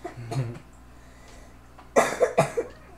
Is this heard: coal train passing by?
no